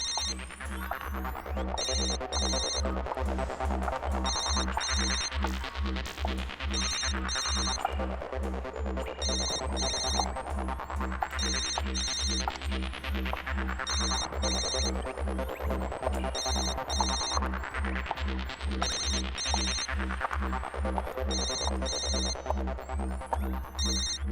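A mobile phone rings with a repeating electronic ringtone, a steady pulsing pattern of bright beeps in bursts, loud and continuous for over twenty seconds, coming from inside a machine in a shop.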